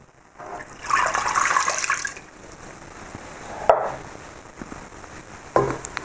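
Water for baklava syrup pours into a pot in a kitchen: a splashing rush for about a second, then quieter clinks and knocks of the pot and utensils, with no voices.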